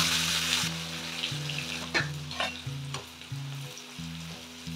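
Julienne-cut onions fry in oil toward golden brown for a Hyderabadi chicken biryani, giving a strong, close sizzle that starts bright and settles into a steady crackle, with soft music underneath.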